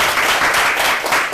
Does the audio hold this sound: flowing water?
no